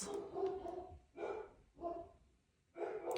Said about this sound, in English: I'm just waiting for my dogs to stop.